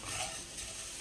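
Roasted idli podi ingredients hiss and sizzle steadily in a hot pan as moisture cooks off, with a soft continuous crackle under light stirring and no voices.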